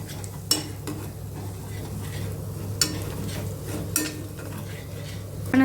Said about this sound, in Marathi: हे मसाले आपल्याला त्याला छान असे परतवून घ्यायचे